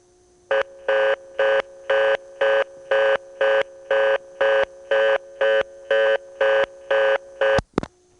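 A repeating two-tone telephone exchange signal from a tone plant in Ramseur, North Carolina, serving an ITT Pentaconta crossbar switch: about fourteen even, evenly spaced beeps, clear and alone, ending in a short click.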